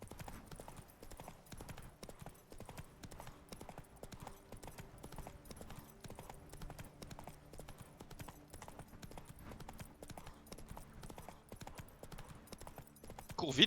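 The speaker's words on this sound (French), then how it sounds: "Cours vite le cheval." Horse hooves clip-clop at a steady galloping rhythm throughout in The Witcher 3, fairly loud and continuous with faint game ambience beneath.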